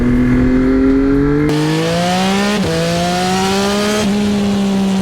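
A 2025 Yamaha R9 motorcycle fitted with a Yoshimura full-system exhaust and a flashed ECU pulls hard through first and second gear, its loud, close engine note climbing in pitch and dropping briefly at each quick shift.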